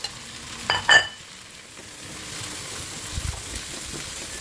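Garlic and plenty of tomatoes sautéing in a pan for sinigang na bangus give off a steady, faint sizzle, with a couple of brief stirring scrapes near the start and light clinks later.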